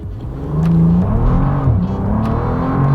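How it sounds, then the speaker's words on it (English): A Bentley Continental GT Speed engine revs up hard and loud with a deep, rising open-exhaust roar, sustained as the car accelerates from 0 to 60 mph. "This is the perfect opportunity to test out a quick 0 to 60."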